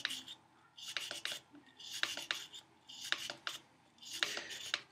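A brush scrubs a revolver cylinder wetted with Ballistol in four close, rhythmic bursts of harsh scraping strokes separated by short pauses, with no talk.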